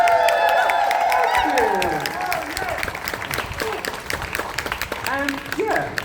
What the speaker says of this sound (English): Give them a cheer, give them a clap.